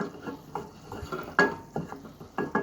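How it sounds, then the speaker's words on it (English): A utensil stirring flour into a sauce in a pan for lasagna, giving close, fairly quiet scraping and knocking strokes in an irregular rhythm with short clinks against the pan. "good old mix it up until it's almost a dough-like substance"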